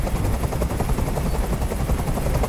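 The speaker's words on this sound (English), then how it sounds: "Tell that helicopter to get out of here!" Helicopter from the video game Detroit: Become Human: a loud, steady rotor roar fills the whole stretch, with rapid gunfire-like bursts mixed into the dense noise.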